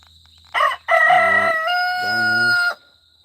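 A rooster crows loudly and close by, one full drawn-out call with a brief rising start, standing alone with no talk over it.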